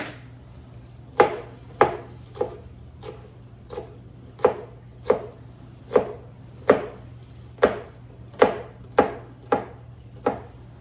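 A knife dicing a pepper on a cutting board: about fifteen crisp, evenly spaced chops close up, each a sharp knock that fades quickly, over a faint steady hum and no talk.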